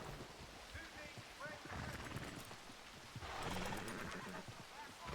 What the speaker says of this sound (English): I hear some hoofbeats